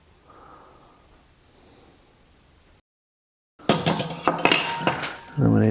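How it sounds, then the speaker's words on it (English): Metal fork tines pricking the surface of rolled chocolate shortbread dough on a kitchen counter, giving a burst of close, clattering clinks and taps after a quiet pause, with louder knocks at the end. "take a fork and prick the surface"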